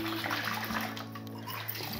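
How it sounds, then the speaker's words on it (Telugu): Water runs to wash cleaned prawns, a steady close tap-like flow with a low constant hum underneath and no pauses. "ఇవి మనం క్లీన్ చేసుకున్న రొయ్యలు. వీటిని మనం కడుక్కుందాం."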